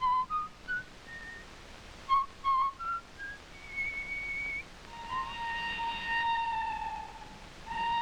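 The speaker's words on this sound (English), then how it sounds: "A Viennese Waltz." A person whistles a Viennese waltz tune, clear melodic phrases with short pauses at first, then longer sustained notes, close and alone with no talking.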